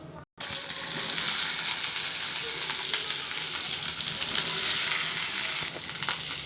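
Okra (ladies finger) with cumin hitting hot oil in a pan, an abrupt loud sizzle that keeps crackling and hissing steadily close up with faint stirring.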